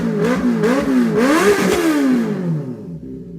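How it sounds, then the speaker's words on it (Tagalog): A Benelli TNT 600i motorcycle engine revs up repeatedly, its pitch rising and falling in a series of close, loud throttle blips before settling back to a lower idle. "Let's rev it."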